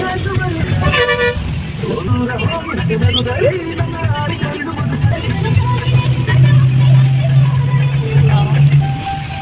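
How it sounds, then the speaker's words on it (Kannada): Pallakki bus passing in heavy rain in Belthangady, with repeated loud horn toots early on and a rising engine drone near the end, while a person talks over it. "ನನ್ನ ಫೇವ್ರೆಟ್ ಬಸ್ ಪಲ್ಲಕ್ಕಿ"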